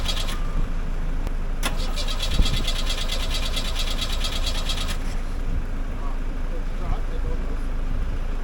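A kit car's engine cranks over with a rapid rhythmic starter chatter lasting a few seconds before stopping, over steady outdoor background noise, with voices talking nearby.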